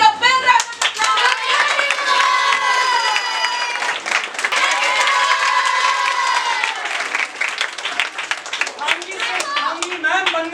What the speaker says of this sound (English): May we give a big round of applause?